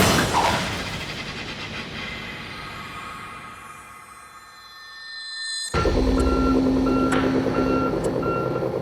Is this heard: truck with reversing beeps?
yes